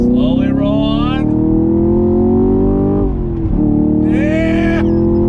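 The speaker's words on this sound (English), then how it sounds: "The sound of that pushrod V8 is phenomenal." A Chevrolet Camaro SS 1LE's pushrod V8 roars loudly and steadily on a track, revving up with rising harmonics, briefly dipping around a shift, then climbing again.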